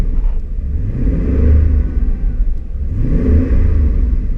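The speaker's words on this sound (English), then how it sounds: "Nothing wrong with it revving." A 1988 Porsche 928 S4 V8 revs twice, each rising rumble swelling and falling back to idle, close and loud with no talking.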